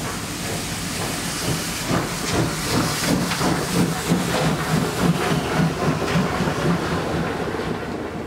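Express steam locomotive 01 1104 hisses steadily at a station hall, a loud continuous broadband steam hiss with pulsing rhythmic chuffs and rail clatter beneath.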